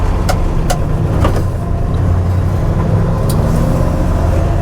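A Ford F100 pickup truck on extra-wide tires rolls along with a loud, steady engine and road roar, and a few sharp clicks and knocks come through near the start.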